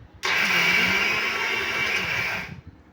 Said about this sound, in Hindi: अब मैं इसे मिक्सी में चला लेती हूँ।